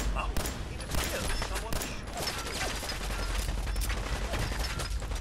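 Pistol shots ring out in Fallout 4, a string of sharp, punchy reports fired at an uneven pace, mixed with dense, steady game noise throughout.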